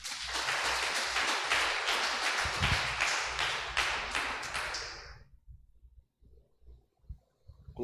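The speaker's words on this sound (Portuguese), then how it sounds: "Dá uma salva de palmas a Jesus aí." Church congregation applauding together, a dense sustained burst of clapping that fills the room for about five seconds, then stops abruptly, leaving faint low rumbles and quiet shuffling.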